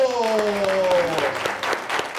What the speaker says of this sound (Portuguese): Então vamos aplaudi-lo!